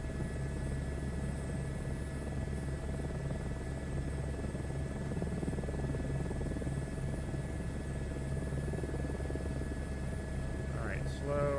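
A helicopter in a VR flight game hovers pointed into a light westerly wind, its rotor and engine drone constant and dominant, with a short chirp near the end.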